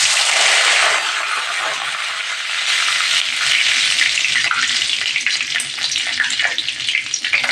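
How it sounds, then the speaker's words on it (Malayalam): Loud, steady sizzling of curry leaves frying in hot oil after mustard seeds have popped, a dense crackling hiss that fills the clip without pause, with no voices. "കടുക് പൊട്ടി ഇനി കറിവേപ്പില ഇട്ട് കൊടുക്കാം"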